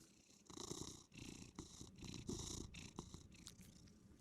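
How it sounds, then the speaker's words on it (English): A cat purrs close up in a steady, rumbling rhythm of long breathy pulses, fairly quiet and alone with no talking. "We can hear him purr?"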